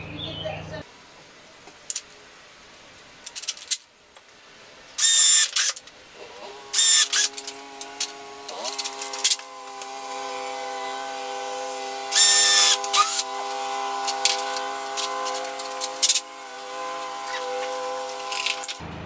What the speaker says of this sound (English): Then tighten the clamps down and put in all the screws.